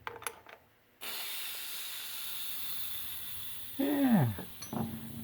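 A loosened air-conditioning compressor fitting on an early C4 Corvette lets out a sudden, steady pressure hiss that holds for several seconds before a short squeal-like sweep near the end.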